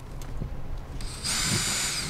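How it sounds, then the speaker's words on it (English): Power drill boring a 1/8 inch pilot hole into fiberglass camper wall for number 8 screws while installing a microwave vent; a short steady high whine starts abruptly partway through after quiet handling noise. "we use a 1/8 inch pre-drill"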